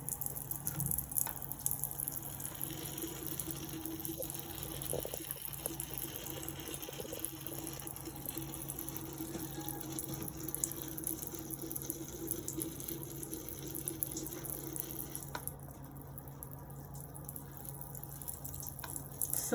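Tap water runs steadily into a sink during surgical handwashing, a continuous moderate splash and hiss that fills the whole stretch, with one brief spoken word.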